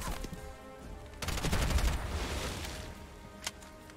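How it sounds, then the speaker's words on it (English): An explosion in the video game Bright Memory: Infinite bursts after a few sharp cracks, swelling into a loud rumbling blast that slowly fades, with another sharp crack near the end. "Well, the explosion was nice."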